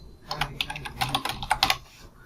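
Rapid keystrokes on a computer keyboard while Java code for arithmetic operations is entered, an irregular burst of close, crisp clicks and taps with no speech.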